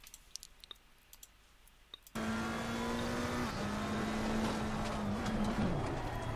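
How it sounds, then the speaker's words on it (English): McLaren 720S EVO race car in a sim racing game at Bathurst, engine droning loud and steady after a quiet start with faint clicks, with a brief tyre squeal as the rear wheels lock under braking. "you heard the tyres lock at the back"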